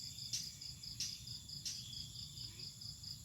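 Crickets at a cricket farm chirp in a dense, continuous high trill, with a few louder pulsing bursts rising above the steady chorus at a moderate distance, no voices present.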